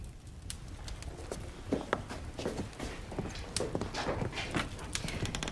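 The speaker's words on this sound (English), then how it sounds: "Do you think the horses could use a drink of water?" Horses clip-clop at a walk, their hooves landing in a loose, uneven rhythm of soft knocks, fairly faint and distant, with faint low background noise.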